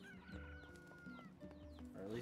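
Chickens in the video game NieR Replicant give several soft, repeated clucks with short rising calls at an even pace, faint and heard alone.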